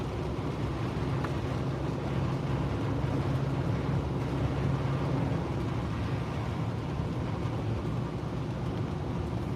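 A 2008 Ford Fusion with a newly replaced transmission drives along, its engine and road noise a steady, fairly loud low rumble throughout while it shifts smoothly, with no talking.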